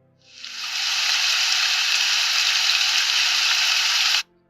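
A rain sound effect plays in a Scratch game project, a steady broadband hiss that fades in over half a second, holds evenly, then cuts off abruptly.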